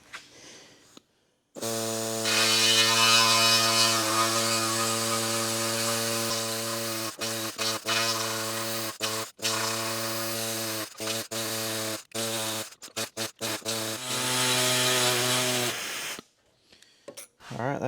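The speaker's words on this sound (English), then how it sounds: "for this part, I'm going to use this little air saw here" A small air saw cuts Model A door sheet metal with a loud buzzing drone, then stutters through many short on-off bursts before a final steady run, and no one speaks.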